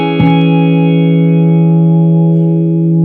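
A single plucked chord on a Paul Reed Smith SE Paul's Guitar with both pickups rings out clean and warm, sustaining smoothly with a soft, rounded tone and a touch of reverb.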